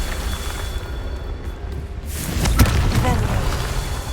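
In the Hogwarts Legacy video game, a Confringo blasting spell bursts with a sudden explosive crack about halfway through, followed by crumbling debris, after a quieter stretch with a speaking voice around it.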